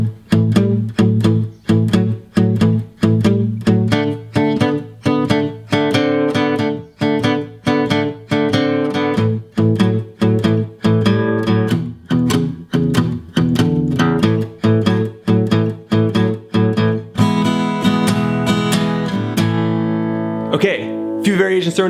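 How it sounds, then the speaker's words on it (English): A guitar plays the Brownie Shuffle blues rhythm as a steady, loud, bouncing riff with no other sounds. Near the end it opens into ringing strummed chords before stopping. "up next, we're upping the ante again with the Brownie Shuffle"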